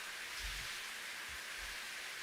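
Rain from the visual novel Slow Damage hisses steadily and faintly, an even wash of drops with a few soft low thuds underneath and no voices.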